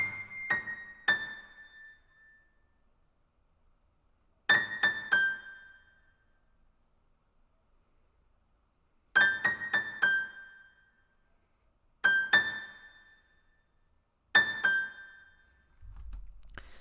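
A stage grand piano in FL Studio plays dry, with no effects: sparse plucked chords in short clustered bursts separated by quiet gaps, closing with a low thump.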